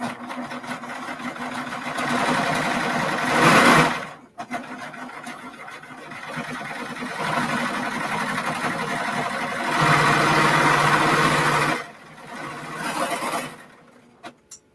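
A serger sewing machine stitches through four layers of fabric in several steady, whirring bursts with short pauses between runs. It sounds close and mechanical, with no talking.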